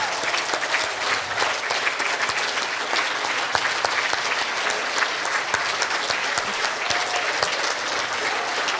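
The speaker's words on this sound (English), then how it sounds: "please stand up and we can give you a round of applause" Sustained applause from an audience at the Canadian Ski Hall of Fame induction ceremony, dense steady clapping filling the hall for about nine seconds with no speech over it.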